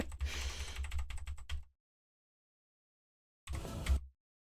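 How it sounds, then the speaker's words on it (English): Loud, rapid clacking of a computer keyboard being typed on, a burst of keystrokes, a pause of silence, then another short burst. "You guys are hearing my loud ass keyboard"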